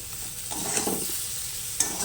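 Fried potato and eggplant are added to spices sizzling in a pan for a boal fish curry, giving a close, steady sizzle with stirring scrapes and a brief clink near the end.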